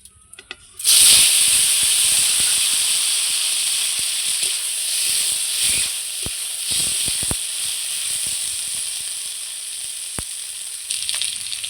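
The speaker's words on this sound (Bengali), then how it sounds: "এবার আমি পনিরগুলো ভেজে নেব।" Paneer drops into hot oil seasoned with turmeric and sets off a loud, steady sizzle that hisses on without a break. A few faint clicks and knocks sound from the pan. No one speaks.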